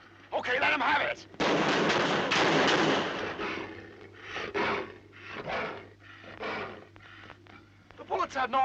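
Gunfire from a 1956 science-fiction film, several loud bursts and cracks in irregular succession, mixed with film soundtrack noise and a voice or two around the shots.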